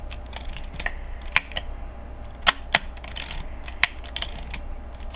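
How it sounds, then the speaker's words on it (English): Faint mechanical clicks and small ratcheting snaps from an Olympus Pen F film camera firing its shutter and advancing film, a few sharp shutter clicks among softer winding sounds, close and quiet with no voices. "We're going to activate the shutter so that we can advance the film."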